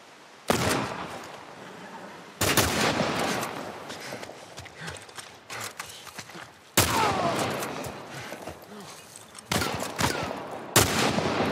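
Rifle shots ring out in The Last of Us, four or five loud, sharp reports spaced a couple of seconds apart, each followed by a decaying echo and lingering game ambience.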